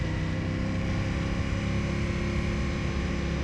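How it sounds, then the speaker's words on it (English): An Aprilia Tuono 1000 motorcycle engine roars steadily while riding, a loud continuous drone with wind rush and no break, close and dominant. "You can hear this engine, it feels like it's screaming at me, but it's not."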